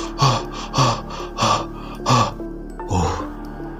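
Someone wakes from a nightmare breathing in ragged pants and gasps, about five sharp inhale-exhale bursts in quick succession, close and fairly loud with no talking.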